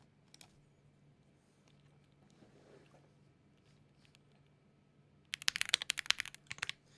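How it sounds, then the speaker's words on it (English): Typing on a THINK 6.5 V3 keyboard with lubed switches, DCX keycaps, plate foam and case foam: a short burst of soft, fairly quick keystrokes near the end, close and clear after a mostly quiet stretch. "So let's hear how this keyboard sounds."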